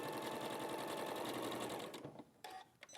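A sewing machine stitches across the corners of a bag in a fast, even, rattling run for about two seconds, then stops, followed by a few short bursts of stitching.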